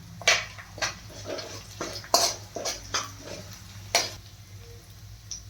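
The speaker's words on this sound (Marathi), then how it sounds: "छान आता आपण मिक्स करून घेणार आहोत." Fenugreek being stirred into a pan while cooking taro-leaf fatfat: a series of sharp metallic spoon scrapes and taps against the pan, irregular and close, over a steady low cooking hum, with no talking.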